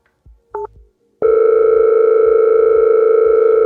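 A telephone dial tone plays while someone calls their boss: a few soft clicks and a short beep, then a loud, steady, unbroken tone that continues to the end.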